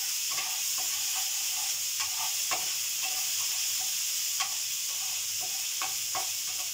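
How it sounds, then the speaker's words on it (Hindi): Ginger-garlic paste with black peppercorns and green cardamom frying in hot oil over full flame, a steady close sizzle broken by scattered stirring clicks and spatters, no talking. "अदरक का पेस्ट भी डाल देती हूँ।"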